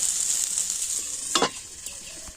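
Green peas sizzle steadily in a kadhai while a spatula stirs them, with a couple of sharper scraping strokes against the pan partway through and no talking.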